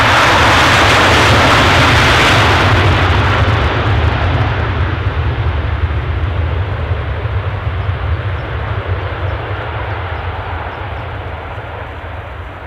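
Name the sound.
Ryanair airplane arriving at Edinburgh Airport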